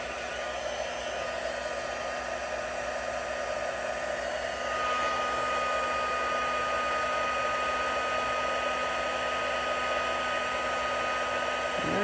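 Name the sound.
heat tool blowing hot air for heat embossing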